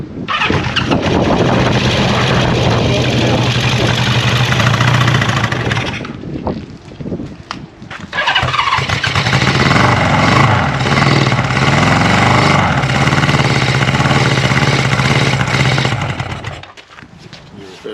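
A Honda CB 550 motorcycle engine fires up and runs loudly with a steady idle, cuts out briefly, then restarts and idles again before shutting off, with a few faint voices between.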